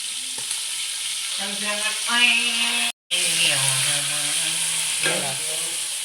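Fish pan-roasting for meen pollichathu, with curry leaves nearby, gives a steady broadband sizzle through the whole stretch, briefly cut out once, while someone talks over it.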